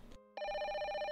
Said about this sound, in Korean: 부동산에 전화를 했습니다.